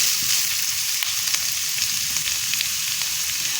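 Onion, tomato and capsicum sautéing in a hot pan for chicken jalfrezi, giving a steady close sizzle with faint stirring scrapes throughout, no voices.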